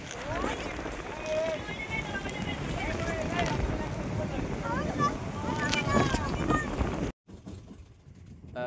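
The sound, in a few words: wind blowing during light drizzle by a river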